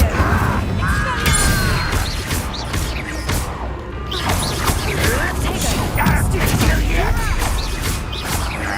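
The Incendio fire spell is cast during Hogwarts Legacy combat, its burst lost in a dense, continuous wash of crashes, whooshes and clattering game effects with a voice over the top.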